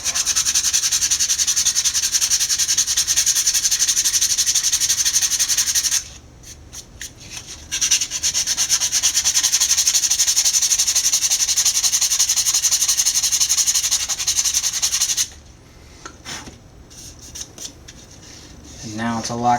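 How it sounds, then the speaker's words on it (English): Sanding block rasping steadily against the edge of a Sintra PVC foam plastic sheet to round it off, continuous scratchy strokes close up, with two brief pauses before the rubbing resumes. "You take your sanding block and"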